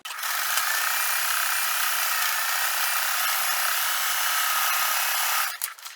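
A sewing machine top stitching a quilt block, running as a steady, fairly loud mechanical whir for about five seconds before stopping, followed by a few small clicks.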